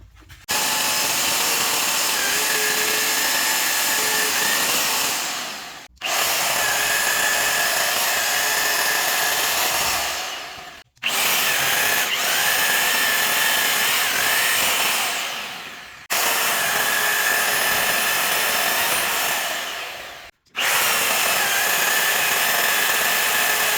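Power drill boring holes through metal for custom light box mounts on a frame, in four long, steady bursts of loud whining, each cut off by a brief pause.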